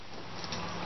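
Steady rain falling outdoors over a backyard aquaponics setup, a dense continuous hiss that stays even and fairly loud for the whole short moment, with no voices.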